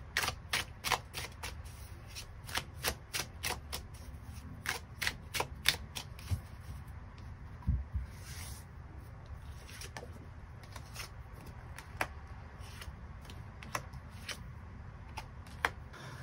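Tarot cards being shuffled and drawn, with quick crisp riffles and snaps in irregular bursts that are dense at first and sparser later, close up over quiet room tone.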